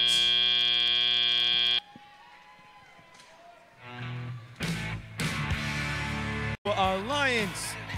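A loud, sustained match-end buzzer blares for nearly two seconds at a robotics competition, then cuts off, followed by arena crowd noise and an announcer talking.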